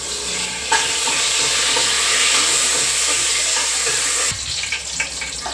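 Ground masala tipped into hot oil in a pan, a sudden loud hiss and sizzle that holds steadily for several seconds and then cuts off abruptly, followed by clinks.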